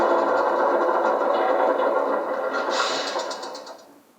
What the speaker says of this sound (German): Der Motor damals lief natürlich nicht so sauber und so gleichmäßig wie heute